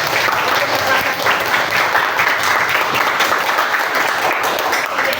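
An audience at a teacher training session applauding, with a dense, steady clapping that holds at a loud level for the whole stretch.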